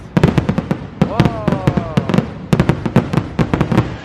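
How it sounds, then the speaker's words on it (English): Fireworks burst over Mystic River Falls at Silver Dollar City at night, a rapid string of loud, close sharp pops and crackles with a whistling rise in the middle, while a person exclaims over them. "now that the fireworks are over"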